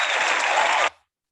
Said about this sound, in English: Yeah, give him his applause